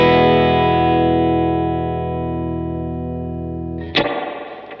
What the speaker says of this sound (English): It's almost like a spring kind of a reverb.